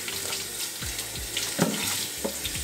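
Running water from a kitchen sink faucet splashing over carrots being washed, a continuous close hiss with small irregular splashes and clunks.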